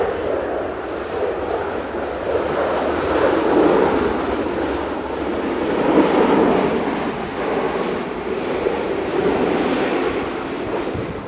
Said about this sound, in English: That's a beautiful landing, that from the Virgin.